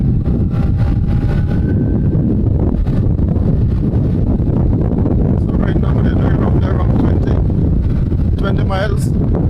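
Strong headwind buffets the microphone during a cycling race on a slight incline, a loud, constant roar that fills the whole stretch, with faint bits of other sound poking through near the end.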